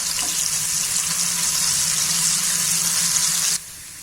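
Cashews, almonds and chillies roast in hot oil for a fasting-style chevdo. A close, busy sizzle and crackle holds steady, then drops suddenly to a quieter hiss near the end.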